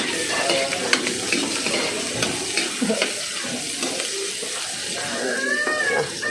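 Chili sautés in a pan for a crab and sponge gourd dish, with a close, continuous sizzle broken by stirring scrapes and clinks.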